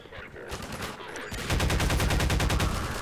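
Enemy gunfire in Half-Life 2 crackles in rapid automatic bursts, growing louder and denser midway into a continuous, closely spaced rattle of shots.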